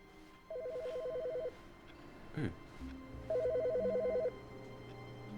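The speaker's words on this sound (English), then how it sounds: "Which phone's ringing?" An electronic telephone rings twice in the video game The Stanley Parable, with bursts of rapid trilling tones separated by a pause, fairly clear over a soft room background, with a brief vocal exclamation between the rings.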